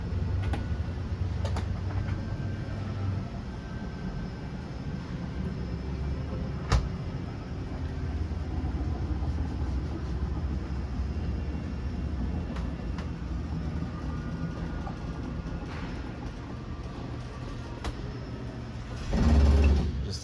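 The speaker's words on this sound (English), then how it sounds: "For your slide out, press and hold out, and that slide will make its way out." Electric slide-out motor on a 2016 Forest River Salem 26TBUD RV extending the slide, a steady low mechanical hum and grind running continuously for about twenty seconds with a few clicks and a brief louder clunk near the end.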